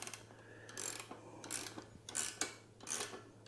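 Mirror bolts being tightened on an Engwe L20 e-bike, heard as several short metallic ratcheting and clicking bursts with brief pauses between them, close by over a steady low hum.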